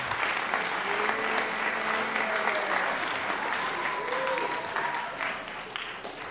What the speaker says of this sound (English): please give them a round of applause for what they've done